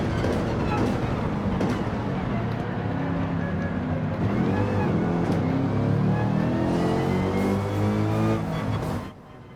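A Mercedes-AMG race car engine in Gran Turismo 7 drones loudly and steadily near at hand, its pitch rising and falling through gear changes, before cutting off abruptly at the end, with faint talk underneath.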